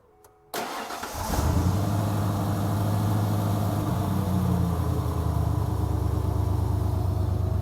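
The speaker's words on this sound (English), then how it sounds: "So instead, we yanked the belt off. And Trevor, go ahead, fire it up." A Ford Bronco (OBS generation) engine with its fan belt removed cranks briefly, catches and settles into a loud, steady close-up idle with a rough rumbling throb, no voices over it.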